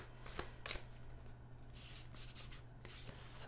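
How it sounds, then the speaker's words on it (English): Oracle cards being shuffled by hand, soft close rustling and flicking in quick bursts over a faint steady hum, quiet and without talk. "We are gonna pull some more oracle cards here."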